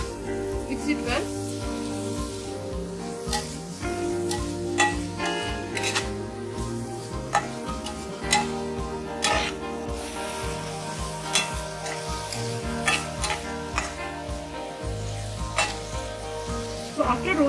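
Fried okra tossed into roasted spices in a hot pan, crackling and sizzling steadily while a spatula scrapes and stirs in regular strokes.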